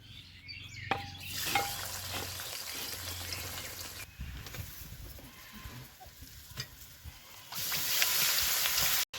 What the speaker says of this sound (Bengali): সরিষার তেল কড়াই দিয়ে দিয়েছি পেঁয়াজ কেটে রেখেছি পেঁয়াজ তেলে দিয়ে দিব